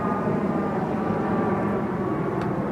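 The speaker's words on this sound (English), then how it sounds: "Listen to that plane activity." A steady, loud airplane roar overhead that holds constant the whole time, a broad rumbling drone with no talk over it.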